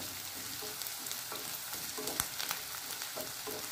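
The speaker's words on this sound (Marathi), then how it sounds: "आता यामध्ये आपण आलं लसणाची पेस्ट घालून घेणार आहोत आणि याला छान असा सुगंध येईपर्यंत पुन्हा परतून घ्यायचा आहे" Onion with ginger-garlic paste sautés in a hot pan, giving a steady close sizzle broken by scraping stirs and occasional sharp spatula knocks, with no one speaking.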